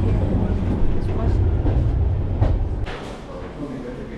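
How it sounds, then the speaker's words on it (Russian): A suburban electric commuter train rolls along with a steady, loud rumble and rattle. The noise shifts abruptly partway through, and faint voices sit underneath. "Кое-как успели на электричку."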